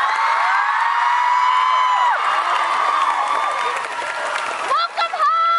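Concert crowd cheering and clapping, with loud sustained high-pitched screams and whoops from a large audience, swelling and then fading into scattered shouts.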